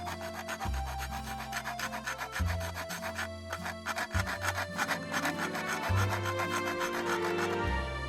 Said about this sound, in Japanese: 裏側のバリや角栓などの出っ張りを削って平らにします。